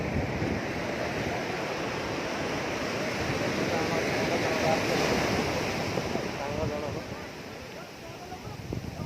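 Ocean surf breaks on the sea shore at Sunapur in a continuous, loud wash of rolling waves, mixed with gusty wind buffeting the microphone.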